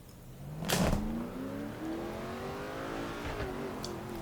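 A race car engine revs and surges in NASCAR 2005 as a qualifying run begins at Charlotte's Lowe's Motor Speedway, a loud rising whine that settles into a steady drone with a second burst near the end.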